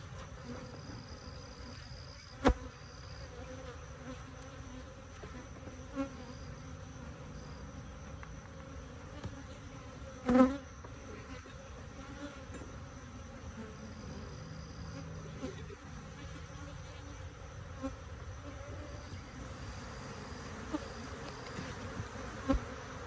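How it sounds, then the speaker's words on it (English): Bees swarm and buzz in a dense, continuous drone close by, with occasional knocks and bumps from hive handling cutting through. "pretty rough bees"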